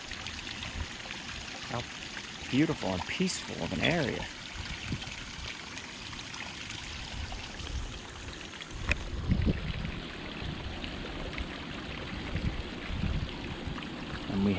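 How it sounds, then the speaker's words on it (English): A small spring feeds a trickling waterfall on the grounds of the Pearl S. Buck House in Bucks County, Pennsylvania, giving a steady, close, gentle rush of running water throughout, with a person speaking calmly over it. "This little spring with a waterfall."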